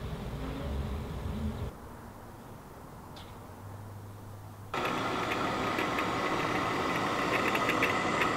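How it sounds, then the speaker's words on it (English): Electric burr grinder grinding fresh coffee beans, a steady loud whirring drone that cuts off, leaves a quieter gap, then resumes more harshly and continues to the end. "So I always grind fresh every morning"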